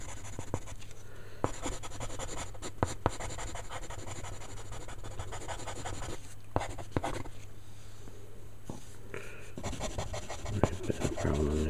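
Derwent pencil drawing on paper, with soft continuous scratchy strokes, occasional sharper taps and pauses, quiet and close.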